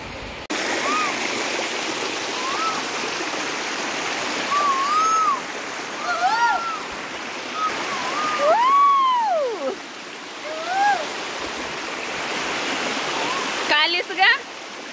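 Steady broadband rush of a waterfall at a scenic spot near Marleshwar, filling the whole span as a constant wash, with bird-like whistles and voices chattering over it and a brief clatter near the end.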